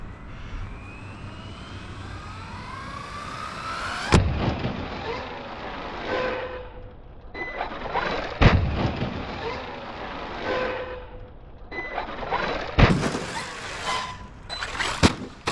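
An Arrma Mojave 4S RC car running on a 5S battery whines at high revs, with several sharp surges and bursts as it drives and bounces, each burst followed by a shorter run.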